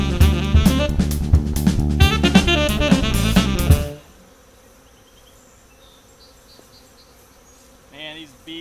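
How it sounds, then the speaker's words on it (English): Agitated honey bees swarm around an open hive while two hives are combined, a loud, dense buzzing for about four seconds that then drops away to faint scattered buzzing. "Man, these bees are upset."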